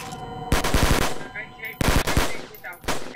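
Gunshots from a sniper rifle in Garry's Mod, three loud shot bursts about every 1.3 seconds, each with a rattling tail, and faint game sounds between them.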